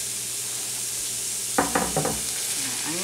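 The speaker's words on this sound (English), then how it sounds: "So we're going to start by throwing in our bacon." Bacon sizzles and fries in a pot with a steady broadband hiss, joined midway by a few clattering stirring scrapes and utensil knocks close by.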